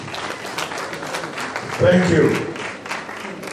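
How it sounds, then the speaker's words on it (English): Audience applause for a guest lecturer at a university faculty lecture, a soft continuous patter of clapping with a voice briefly speaking over it midway. "A round of applause."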